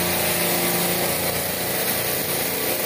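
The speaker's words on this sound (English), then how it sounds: "That compressor is running." A refrigeration rack compressor in a commercial system runs with a loud, steady mechanical drone and whir, heard up close with no break.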